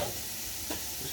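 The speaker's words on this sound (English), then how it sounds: "Just frying things up." Food frying in oil in a home kitchen pan for beef and bean chili gives a steady close sizzle with a brief stirring scrape, and no one speaks over it.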